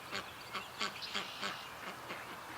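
Muscovy ducks give a run of rhythmic quacks, about seven in quick succession, moderately close and fairly quiet, over a light background hiss.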